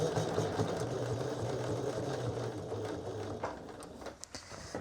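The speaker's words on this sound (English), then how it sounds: "I'm going very slowly on this first pass because we're sewing through all of the layers." Sewing machine topstitching slowly through many skirt layers held with pins, a steady close mechanical whir that runs without a break and eases off near the end, with no talking.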